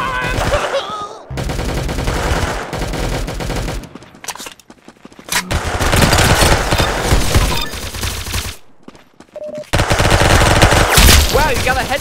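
Gunfire in a shooting video game, with loud rapid bursts of automatic fire in several long stretches broken by brief quiet gaps and a few lighter effects, with no clear speech.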